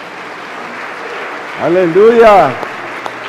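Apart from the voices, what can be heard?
church congregation clapping hands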